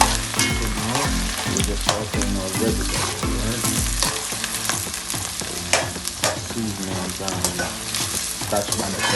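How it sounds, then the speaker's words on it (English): Onions, scallions, Scotch bonnet and sweet peppers sauté in a hot pot with oil, a close, steady sizzle broken by repeated stirring clatters, no talk. "now we're gonna add it to our pot. All right, so we're gonna saute."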